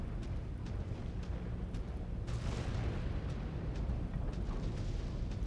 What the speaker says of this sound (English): Lots of explosions everywhere.